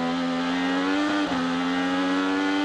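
A 2019 IndyCar engine screams at high revs with a steady harmonic whine at Laguna Seca, briefly dipping and surging as the wheels spin and lose grip.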